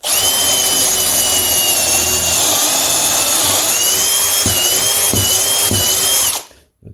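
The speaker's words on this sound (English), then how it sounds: "I'm going to do holes A and C and drill those out" Power drill boring pocket holes down to a stop collar in a shop, a loud, steady high-pitched whine held for about six seconds with slight load changes and a few clunks before it spins down.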